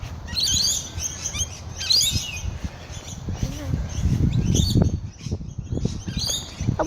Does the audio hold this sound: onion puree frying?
no